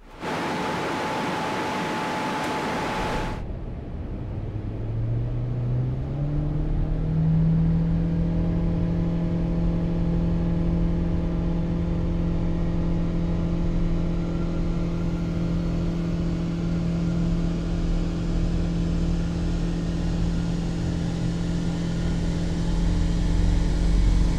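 A car rated at 187 horsepower runs on a dynamometer during a power test, its engine revving steadily upward in one long, loud pull after a brief burst of noise at the start.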